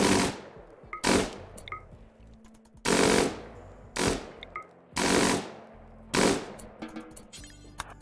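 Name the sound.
gunfire in quick bursts shooting hives, RimWorld video game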